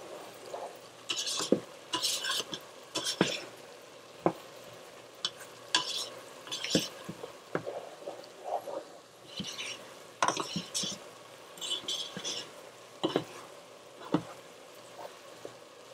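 A spoon stirs a pot of creamy potato soup with repeated close scraping and clinking strokes against the pot, irregular in rhythm over a quiet background, with no one talking.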